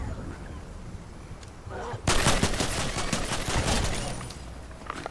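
Fortnite gunfire breaks out as a loud, dense burst of rapid cracking shots that starts abruptly about two seconds in and rattles on steadily to the end, following a quieter background stretch.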